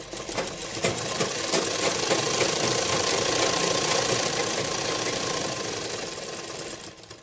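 A sewing machine runs a steady, continuous line of stitching, joining lining to the main fabric along the edge of a blouse, close and fairly loud, then easing off near the end with no talk.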